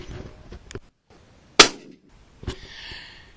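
A shotgun blast at a pigeon during decoying in Wales, one loud sharp report with a brief echoing tail, framed by a few fainter knocks and a rustle in an open outdoor setting.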